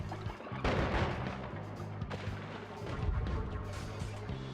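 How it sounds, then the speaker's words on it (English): Explosions in the video game Noita form a dense, continuous barrage of blasts and crashes with sharp bursts near the start and later, loud and sustained over a low rumbling game soundtrack. "Oh, I hear more explosions."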